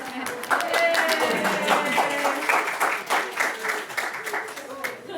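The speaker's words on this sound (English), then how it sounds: "Give them an applause, guys." An audience claps and applauds for group representatives walking up at a risk communication session, a steady dense patter of many hands lasting several seconds with a faint voice underneath.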